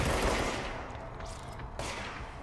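Gunfire in the video game Control, a dense rolling burst of shots with long echoing decay, the loudest at the start and fading, followed by another sharp shot near the end, with no talk.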